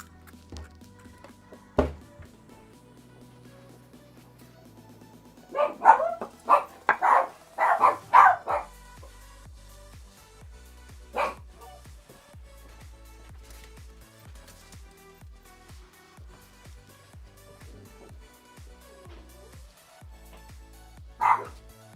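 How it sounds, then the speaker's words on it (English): A dog barks in short bursts, a cluster of rapid barks in the middle with isolated single barks before and after, in a fairly quiet room. "we're gonna live with the barking because I live with it"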